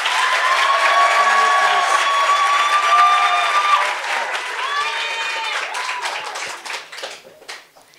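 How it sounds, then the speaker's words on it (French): Sustained audience applause at a French "Ma thèse en 180 secondes" science-communication contest, dense and loud for several seconds before tapering off, with a few voices and whistles mixed in. "Elia, donc les applaudissements pour Elia maintenant"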